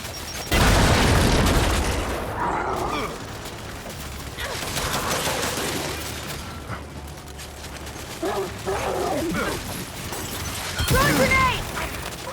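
A loud grenade blast in the Gears 5 shooter game, a heavy boom at the start followed by rumbling combat noise, scattered impacts and character shouts throughout.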